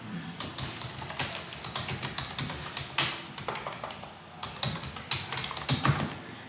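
Someone typing quickly on a computer keyboard at close range, a dense run of crisp key clicks and taps in uneven bursts with a brief pause midway, with no voices.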